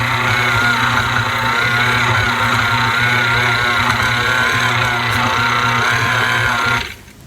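An electric mixer with a mixing attachment whirs steadily and loudly while mixing meat pie dough, a constant motor hum that runs for several seconds before abruptly cutting off.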